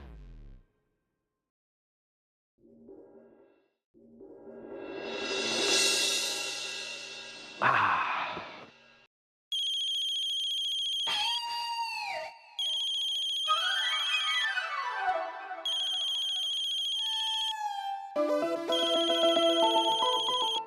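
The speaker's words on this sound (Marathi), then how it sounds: "अरे हा भ्रमणध्वनी इथं केकाटतोय, कोणी घेणार आहे का तो?" A mobile phone ringtone plays in a Marathi TV serial scene, a bright electronic melody in repeated bursts with brief pauses, preceded by other scene sounds, fairly close and clear with no talk over it.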